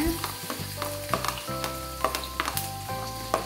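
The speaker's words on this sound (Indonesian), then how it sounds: "Di sini saya sudah siapkan minyak, udah panas ya. Sekarang saya masukin bawang merahnya" Shallots sautéing in hot oil in a pan, a bright close sizzle broken by repeated sharp metallic scrapes and taps of a utensil against the pan in an uneven rhythm.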